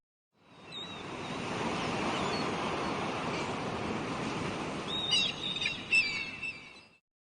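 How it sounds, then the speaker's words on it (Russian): Sea waves wash in a continuous surf roar that fades up, holds at a soft level, then surges in a couple of louder swells with faint bird calls above before fading out. "море"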